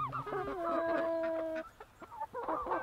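Chickens and a rooster on a pig farm cluck and call close by, with a sustained drawn-out squawk early on followed by scattered short clucks.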